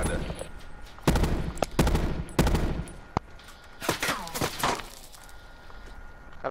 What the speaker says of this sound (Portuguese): O cara atirando aqui na gente